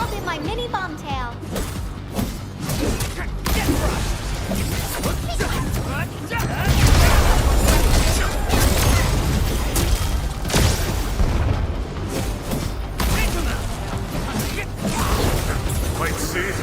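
Bomb blasts from the video game Arknights: Endfield boom repeatedly under dense, continuous game music and mechanical clatter, loud and busy throughout, with the heaviest impacts in the middle stretch.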